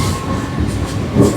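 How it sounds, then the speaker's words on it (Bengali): A local train pulls away from platform 1 at Tamluk station, a steady close rumble of carriages and wheels with a slight swell near the end, no voices. "আমাদের ট্রেন ছেড়ে দিল তমলুক স্টেশনের 1 নম্বর প্ল্যাটফর্ম থেকে।"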